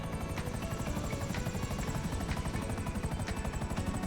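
A helicopter in GTA 5 Online whirs with fast rotor chopping at a steady, close, continuous pace, with no talk over it.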